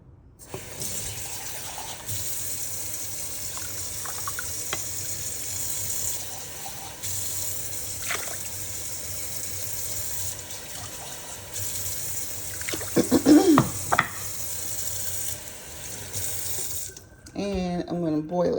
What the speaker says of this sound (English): Taking the empty pot, and I'm going to pour the rice